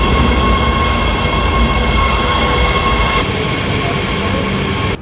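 A Los Angeles metro rail train rumbles loudly and steadily with a dense roar and tonal whine, heard close from on board, fading slightly near the end.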